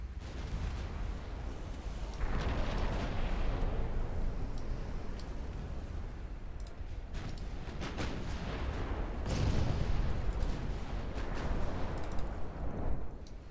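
Heavy naval gun salvos from warships in a naval combat game, including a big shot from the French cruiser De Grasse firing 155 mm shells, booming in broad rumbling waves across the whole stretch with no talk over them.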